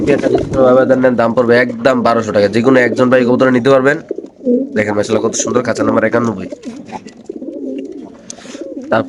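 Racing pigeons coo repeatedly, close and loud, in rhythmic throaty bursts with brief pauses between phrases.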